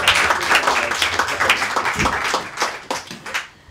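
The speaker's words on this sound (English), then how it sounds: "Let's give a round of applause for chapter 17 of I Love You," An audience gives a round of applause at a storytelling session, dense clapping that starts loud and fades gradually toward the end, with no speech over it.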